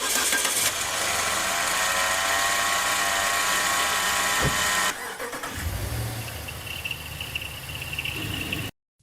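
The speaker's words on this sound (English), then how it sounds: "A deep, heavy metallic knocking sound, commonly known as bearing noise" Car engine with worn bearings, said to give a deep, heavy metallic knock, runs loudly and steadily before its tone shifts midway, then cuts off abruptly just before the end.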